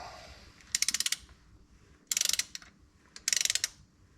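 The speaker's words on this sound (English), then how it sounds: "So we're going to do that now and loosen off the bolt. You're going to need a 22mm socket to loosen it." A ratchet wrench with a 22mm socket loosens the crankshaft pulley bolt on a Hyundai Getz, giving three short bursts of rapid clicking close by, separated by quiet pauses.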